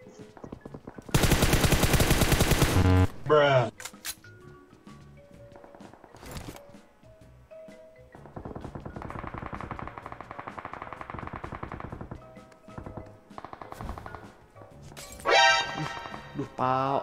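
Gunfire in the video game PUBG: a loud sustained burst of automatic fire, then scattered single shots and thuds, a steadier volley mid-way and another rapid burst near the end, with voices talking over the game.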